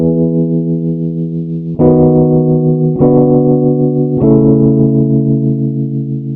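Hard-compressed synth chord progression for an Afrobeats track, with the quiet noise floor pushed up. Four sustained chords change at steady intervals, loud and dense, with no voices.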